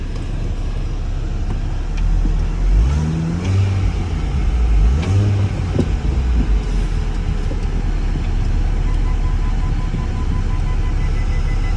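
A Mini car engine idling and revving while reversing, a steady loud rumble with rising and falling engine pitch in the middle stretch, no voices.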